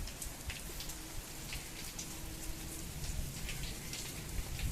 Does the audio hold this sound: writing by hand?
no